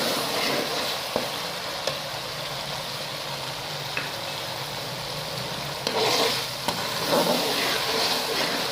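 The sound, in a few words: frying and stirring ground coriander and cumin for urad dal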